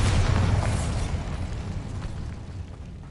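A Bombarda spell explodes in a video game with a loud, close boom that decays into a long rumbling tail.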